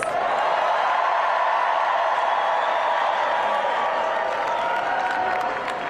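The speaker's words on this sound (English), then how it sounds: "a round of applause" A large crowd at a New York City mayoral election night event applauds steadily and loudly, a dense wash of clapping that holds for several seconds with faint cheers mixed in.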